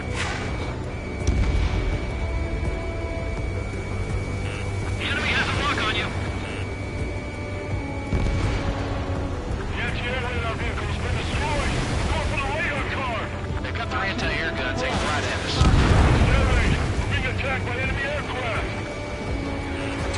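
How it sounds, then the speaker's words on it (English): A missile launch and explosions in the Ace Combat 7 video game: a continuous roaring rumble with heavy bursts and booms, loud and close, under radio chatter and in-game voices. "H2, missile launch"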